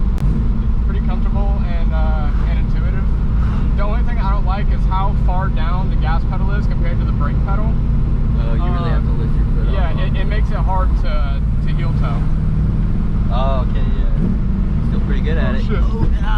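A modified 1997 Chevrolet Camaro Z28 drones with a low, steady engine rumble while driving, heard from inside the car under near-constant conversation from the occupants.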